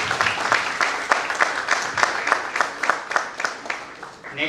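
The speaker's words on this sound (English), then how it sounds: "A huge round of applause for Rohit for joining us." An audience at an AI conclave for an XLRI management programme breaks into steady applause, many hands clapping in a dense rhythmic patter that carries on for several seconds, with a brief voice near the end.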